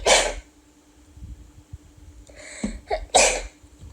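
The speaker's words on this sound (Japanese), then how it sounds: "くしゃみ出ちゃった。" A person sneezes sharply twice, close and loud, with a quieter breathy sound between the two bursts in an otherwise quiet room.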